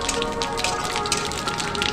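Bay leaf and panch phoron spices sizzle in hot oil for a mixed vegetable dish, a dense, steady crackling fry heard up close with no pauses.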